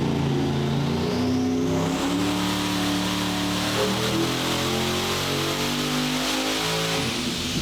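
A small-cubic-inch 427 big block Chevy engine roars loud and close through a full pull on a dyno, its pitch climbing steadily under wide-open throttle, then easing off near the end.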